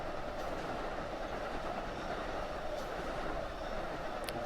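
A long commuter train in the Train Sim World 2 Boston Sprinter route rolls along with a steady, dense rumble and faint clickety-clack, continuous and close, with a couple of faint high squeaks near the end.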